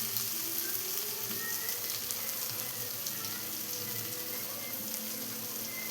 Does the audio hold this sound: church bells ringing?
no